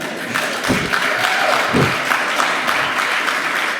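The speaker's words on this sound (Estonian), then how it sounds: "teeme aplausi selle peale." Dense applause from a festival audience at a talk, a steady wash of clapping with a couple of louder thumps, continuous and fairly close.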